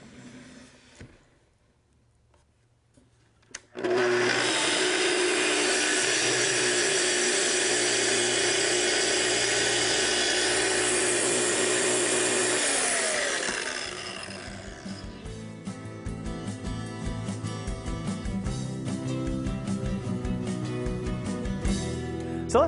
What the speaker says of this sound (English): we'll plug our saw back in,